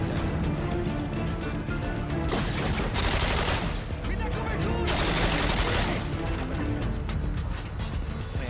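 Rapid bursts of gunfire crackle in Modern Warfare 2's Special Ops mission O Cristo Redentor. Dense volleys come in loud surges, with short lulls between them.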